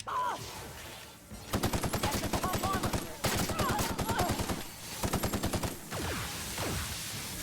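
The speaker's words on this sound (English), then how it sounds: "Will you quit shooting me?" Rapid bursts of gunfire from the video game The Outer Worlds, loud and close, in several rhythmic volleys, with a player's voice reacting between shots.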